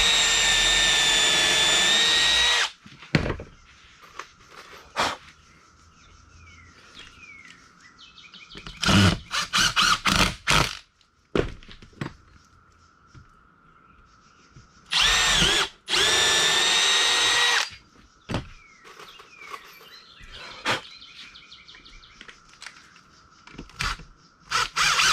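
A power drill with a countersink bit, drilling wood for a planter box, whirs in several loud bursts of a few seconds each, separated by quieter gaps where faint chirping birds can be heard.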